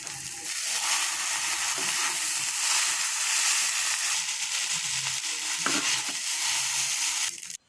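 Noodles stir-fried with egg and a spice mix in a hot pan: loud, continuous bright sizzling up close, with occasional soft scrapes and tosses of the utensil breaking through the hiss.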